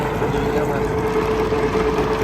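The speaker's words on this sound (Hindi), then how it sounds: "ये ट्रैक्टर है सोनालिका 60 DI" A Sonalika 60 DI tractor with a 60 HP engine works a field, digging a trench. It drones steadily and close for the whole stretch, a continuous even hum with a faint tonal whine running through it.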